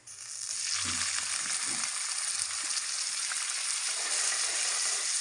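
Onions added to a hot pan with fried cumin seeds sizzle loudly and steadily, with a few faint stirring knocks early on.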